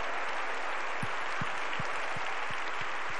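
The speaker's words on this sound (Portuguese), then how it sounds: "Você pode aplaudir o Senhor por isso?" A congregation at a women's church service claps for the Lord in a steady wash of broadband applause. It sounds fairly distant and sits at a low level, with a few faint low thumps coming through.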